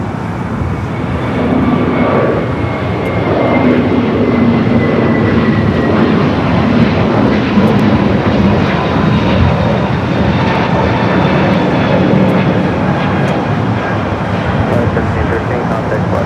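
Airliner taking off on runway 25 right at LAX, a broad steady jet roar with slowly shifting tones that holds loud and constant from the south side, with voices talking over it.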